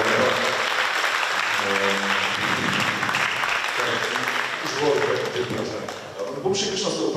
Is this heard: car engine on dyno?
no